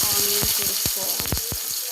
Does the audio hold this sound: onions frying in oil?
yes